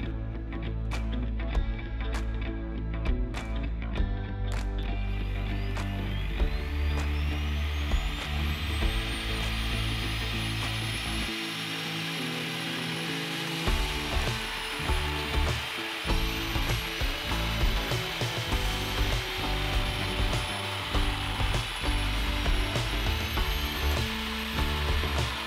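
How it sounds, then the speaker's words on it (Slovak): A 2400 W electric chainsaw cuts wood. Its motor whines loudly and continuously, rising in pitch as it revs, with the chain clattering and rattling through the cut. "Ďalej vyskúšam reťazovú pílu o príkone 2400"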